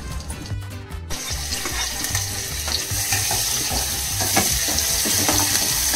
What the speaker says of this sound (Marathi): मिरची आणि लसूण टाकायचं. मग असं थोडासा चरचर आवाज येणार, म्हणजे समजायचं तेल तापलंय.